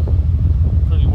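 Gusty wind buffets the microphone with low rumbling bursts throughout the brief moment.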